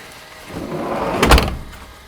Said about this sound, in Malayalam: ഡോർ എടുക്കട്ടെ